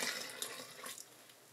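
A full cup of water pours into a mixer bowl while making pizza dough, a brief, close, soft splashing rush that tapers off within about a second.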